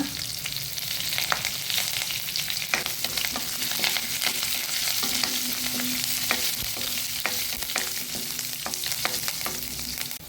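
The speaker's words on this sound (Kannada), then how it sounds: "ಮೆಣಸು ಇಷ್ಟನ್ನು ಹಾಕಿ ಕರಿ ಲೀವ್ಸನ್ನು ಹಾಕ್ಕೊಂಡು ಒಂದು ಒಗ್ಗರಣೆ ಟೈಪಲ್ಲಿ ರೆಡಿ ಮಾಡಿಟ್ಕೊಳ್ಳೋಣ." Pepper and curry leaves crackle and spit in hot oil as a tempering for vermicelli pongal, a loud continuous sizzle broken by sharp pops and stirring scrapes, with no voices.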